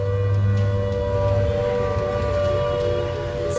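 Continuous civil defense siren from a mock drill, a held mechanical tone with a low droning hum beneath it, steady in level with a brief bump at the close.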